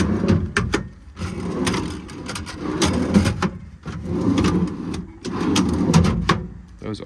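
Metal Maintainer dual-lock tool drawers on a 2017 International 4400 service truck slide open and shut several times in a row, with rolling rasps and soft clunks at the ends, fairly close by.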